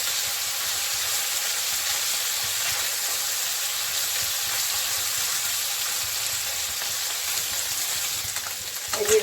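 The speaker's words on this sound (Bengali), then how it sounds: "ওই জন্য আমি হালকা একটু ভেজে নেব।" Mourala fish frying lightly in hot oil, giving a dense, continuous sizzle and crackle that holds steady and close, with a faint clunk near the end and no voices.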